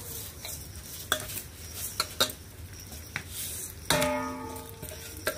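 Moong dal dry-fried in a wok with a little oil, a utensil scraping and stirring in sharp repeated strokes over a steady close sizzle, with no voices.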